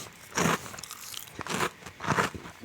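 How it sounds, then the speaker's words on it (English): Sour, salty Japanese rice cracker crunched by biting, giving three loud, dry crackly bursts close to the ear with quiet pauses between. "And of course, we gotta listen to the crunch here."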